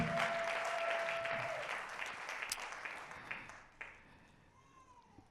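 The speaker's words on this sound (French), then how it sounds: "Je veux que nous puissions acclamer le Seigneur" Congregation in a church bursts into loud applause that gradually fades and thins out into scattered claps, with faint voices underneath.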